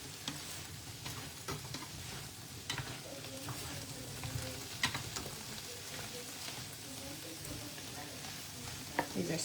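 Vegetables sizzle in a skillet while being stirred, a steady close frying hiss with occasional scraping taps of the utensil.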